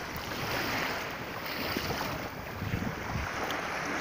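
Sea waves washing onto a beach in Bulgaria: a steady, close, broadband rush of surf mixed with gusty wind buffeting, continuous for the whole stretch with no talk.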